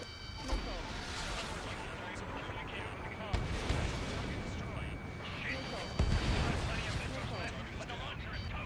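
Missile fire and explosions in a combat flight video game, a dense continuous roar of blasts with sharper booms standing out, heard under someone talking.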